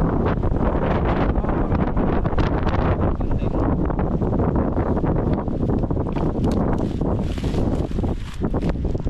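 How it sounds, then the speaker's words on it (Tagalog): Strong, continuous wind roars and buffets the microphone throughout on a high trail near a riverside campsite in Malico, a loud broadband rush with gusty fluctuations and no talking. "hangin na po yan."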